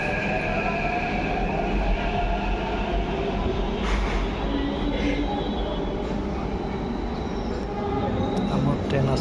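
Interior of a Hyderabad metro train in motion: a steady, loud rumble and hum of the carriage running on the rails throughout, with faint higher whines and occasional soft clicks over it.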